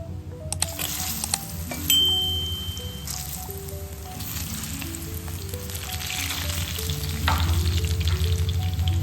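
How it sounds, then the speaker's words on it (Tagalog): Saba bananas frying in hot oil for a Filipino pork dish, a continuous close crackling sizzle with small pops and bubbling, plus a few clinks of a utensil against the pan; nobody speaks. "Ngayon naman po, ipiprito natin itong saging na saba."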